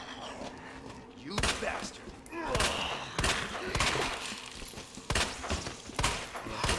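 Gunshots in the Resident Evil 2 video game: a string of separate sharp shots spaced about a second apart, fairly loud, with someone talking between and over them.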